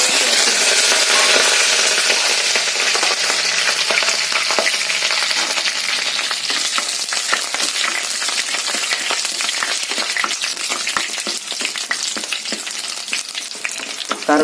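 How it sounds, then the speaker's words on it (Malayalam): Curry leaves and green chillies fry in hot oil with fenugreek and mustard seeds, a loud, steady sizzle with crackling pops throughout and no talking. "ഉലുവായും കടുകും പൊട്ടിക്കഴിഞ്ഞാൽ അതിലേക്ക് നമുക്ക് കറിവേപ്പിലയെ പച്ചമുളക്"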